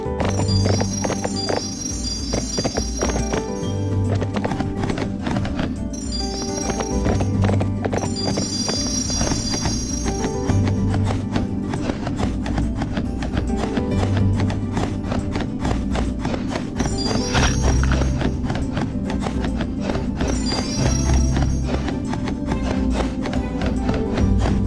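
Rhythmic hoofbeats of a galloping horse in the PlayStation 2 game Barbie Horse Adventures, a steady clip-clop running throughout over continuous game music, with a brief whinny.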